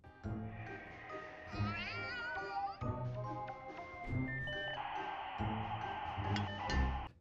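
Meowing from a cartoon cat in an animated fantasy show, set against a busy musical soundtrack with sustained tones and shifting melodic lines, the cat sounds blending into loud, continuous score throughout.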